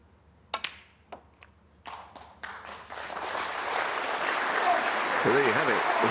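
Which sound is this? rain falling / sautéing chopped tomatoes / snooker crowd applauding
snooker crowd applauding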